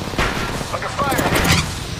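Bursts of gunfire from the mobile battle royale game Apex Legends Mobile, a dense rattle of shots and impacts running steadily through the moment alongside game sound.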